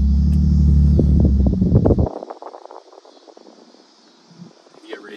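A 2005-2013 Lexus IS250 engine rumbles loudly for about two seconds while driving, then drops to a quieter hum as people talk inside the vehicle.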